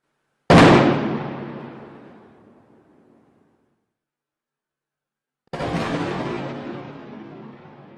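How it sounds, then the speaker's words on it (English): Explosive blasts test an ATM safe door: one sudden loud boom fading into a long rumbling decay, then after silence a second heavy blast that roars on steadily. "The team then repeats the explosion on an ATM fitted with the latest Gryphon."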